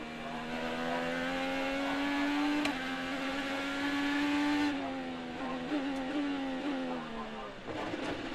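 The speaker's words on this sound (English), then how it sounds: "You hear the engine start to go quiet" A high-revving IndyCar engine at the St. Petersburg street race whines steadily, its pitch holding then dropping as it eases off, with brief shifts near the end.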